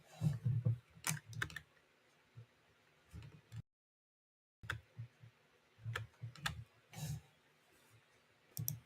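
Fingers type on a computer keyboard at close range in irregular bursts of sharp clicks and key taps, pausing for a second of silence midway before the typing resumes.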